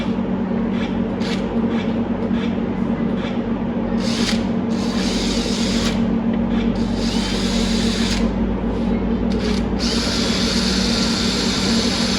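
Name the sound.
power tool cutting a hole in metal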